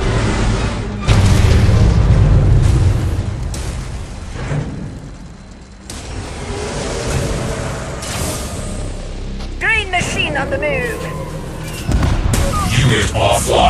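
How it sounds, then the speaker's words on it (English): A nuclear weapon launch and detonation in a real-time strategy video game, heard as loud booming blasts and a long rumbling roar that swells and fades, with brief voiced game announcements and other battle noise layered over it. "Nuclear weapon launched"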